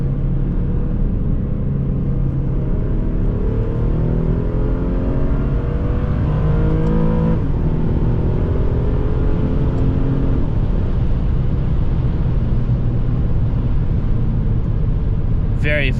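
Infiniti G37 engine revving up through the gears with paddle shifters, dropping from fourth to third, rising tonal sweeps repeating over a steady cabin rumble, with someone talking over the engine throughout.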